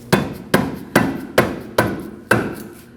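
A rubber mallet taps a rear suspension arm onto the knuckle of a 2011-2012 Kia Optima in a series of six sharp, evenly spaced, ringing knocks, each close and loud.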